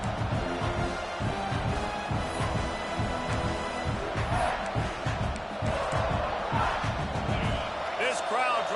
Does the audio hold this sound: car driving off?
no